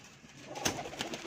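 Golden pigeons coo faintly in a brief burst, a few soft throaty calls over quiet background noise.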